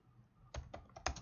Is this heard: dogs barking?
no